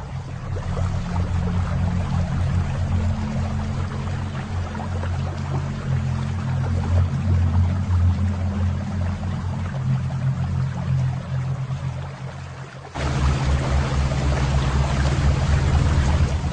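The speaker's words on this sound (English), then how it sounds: "The bilge pump discharges the liquid into the inlet chamber of the OWS." A ship's bilge pump discharges liquid into the inlet chamber of an oily water separator, a constant rushing, pouring flow over a deep mechanical hum that steps up suddenly near the end.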